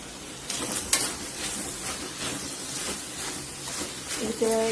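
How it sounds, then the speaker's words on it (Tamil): Brinjal slices fry in a pan with a little oil, seasoned with pepper and cumin powder, giving a continuous close sizzle with stirring pulses and a few clinks, with faint talk in the background. "இப்போ இன்னும் கொஞ்சம் நல்லா ஃப்ரை பண்ணவும் எடுத்துடலாம்"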